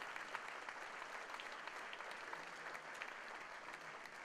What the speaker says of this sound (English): So let's give Nicole a round of applause for that recognition.